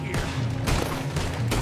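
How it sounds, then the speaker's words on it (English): Gunfire crackles through a Red Dead Redemption 2 shootout at a gun store, with repeated loud shots and bursts across the whole stretch and no talking. "I can see him shooting out the back"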